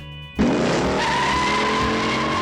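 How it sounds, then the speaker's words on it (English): In the Bullitt film chase scene, a black car screeches and smokes its tires as it tries to escape. After a brief quiet moment the squeal erupts loud and close and holds steady throughout. "we are bombarded with the sound of the black car screeching and smoking its tires as it tries to escape"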